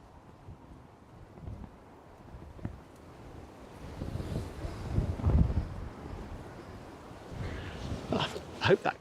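Blustery wind on an open hilltop, buffeting the microphone in low rumbling gusts that swell and fade, growing stronger toward the end, fairly faint overall.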